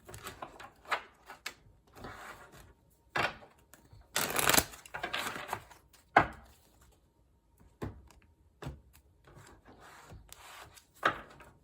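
Intermittent papery shuffling and rubbing of tarot cards, a few bursts with one louder riffle in the middle, close up with no talking.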